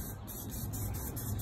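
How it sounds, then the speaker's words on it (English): Spray paint from an aerosol can hisses steadily onto a tub of water as a base layer for hydro dipping, a continuous close, even spray with no talking. "So we're just gonna take our spray paint and we're gonna put a pretty good layer as a base in our water."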